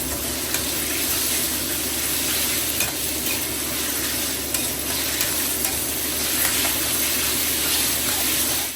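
Pork pieces sear over high heat in a hot wok with lard, a loud, continuous sizzle and crackle with steady stirring and scraping throughout, close up and with no voices.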